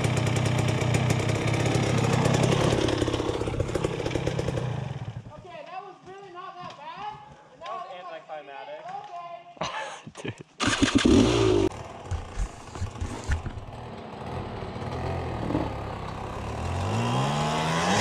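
A dirt bike engine revs hard on the throttle outdoors near a cliff, loud and close at the start, dropping away in the middle before surging again, with excited voices talking and shouting over it.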